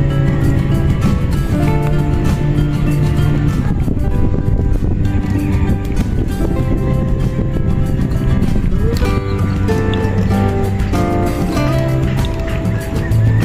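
A big, heavily laden fishing boat heading out, its truck-like engine droning loud and continuous with small changes in pitch throughout.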